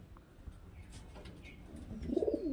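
A pigeon crossbred from Kamagar, Saranpuri and Rampuri lines gives a faint, low coo that swells near the end. Quiet background hum runs underneath.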